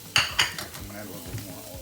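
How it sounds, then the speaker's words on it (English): A steak is dropped into a hot pan on a home stove, with two sharp clanks of metal at the start followed by a low, steady sizzle as it begins to sear close by. "Here goes my steak now."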